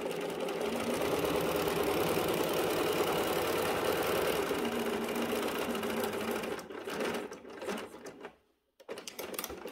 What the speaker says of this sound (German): Hole mir einmal meinen Unterfaden hoch, indem ich hier am Faden ziehe und steppe dann gerade herunter.